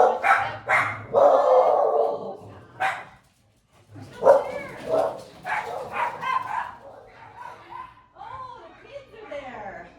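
A dog barks a few times amid people talking, with children's voices in the background.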